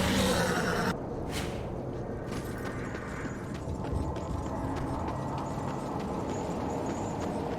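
Horse hooves in the video game Darksiders: rhythmic clip-clop steps with mechanical clanks and ratcheting game sounds, moderately loud and continuous after a brief burst of noise at the start.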